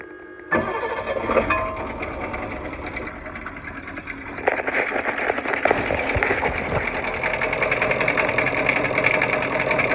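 An International T444E diesel engine paired with an Allison 545 transmission cranks and catches, then runs with a loud, steady, clattering idle, and a faint knock or rattle sounds within it.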